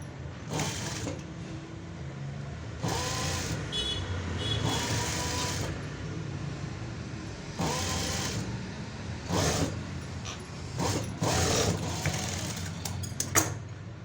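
A sewing machine stitches fabric in several bursts of whirring motor and needle clatter separated by short pauses, moderately close and fairly quiet.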